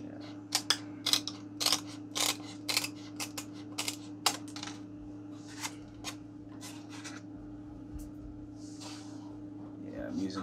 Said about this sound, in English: I'm using my Lexan scissors for cutting wood